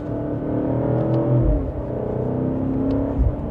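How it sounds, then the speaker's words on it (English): Sustained engine note from a BMW M8 Competition Gran Coupe in Sport Plus mode, rising through a downshift into a mild acceleration: a steady, close, rich rumble with a brief swell near the end. "give it a minor acceleration, it definitely sounds really good"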